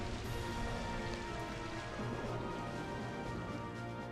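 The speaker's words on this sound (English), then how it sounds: "we need to do something about that rain" Rain from the Rain Dance weather effect in the Pokémon Colosseum video game, a dense, continuous hiss of falling rain at a steady level with no talk over it.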